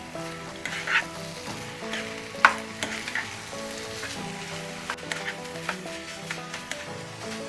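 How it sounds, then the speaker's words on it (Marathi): Coconut rice with cardamom powder and saffron-infused milk is stirred in a pan, giving a steady wet sizzle with scattered scraping clicks of the spoon, close and continuous, with no voices. "आता हे छान असं मिक्स करून घेऊया।"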